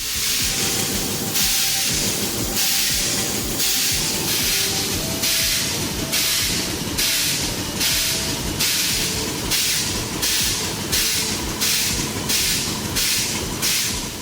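Rhythmic bursts of steam hiss chuff steadily from a nearby steam engine at a steam threshing show in western Minnesota, loud and continuous, with a low mechanical rumble underneath.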